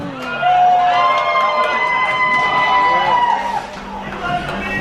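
An audience aboard a cruise ship cheers and shouts in a loud, sustained burst of overlapping voices that dips briefly near the end.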